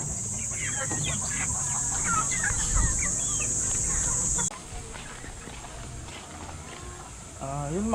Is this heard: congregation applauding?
no